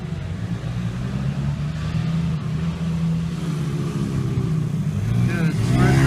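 Pit bikes race on a dirt TT track, their small engines droning and revving with a low buzzing hum that builds toward the end, while people talk over the noise.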